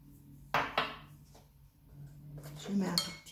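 Utensil scraping and clinking against a bowl while a messy mixture is stirred, with two sharp knocks early on and a busier scraping, clattering stretch toward the end, close and fairly quiet.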